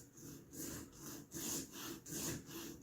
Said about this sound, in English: So get my saw that I need from my rack here of saws. And go ahead and get this cut.